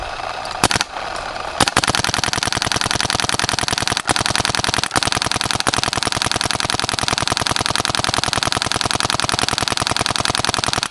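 A Smart Parts Ion Custom paintball marker fires in rapid, sustained strings, a loud, evenly spaced stream of sharp pops running for about nine seconds after a couple of opening single shots.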